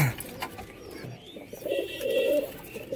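Pigeons coo faintly amid a noisy loft, their soft low calls swelling toward the end over a hiss of background noise.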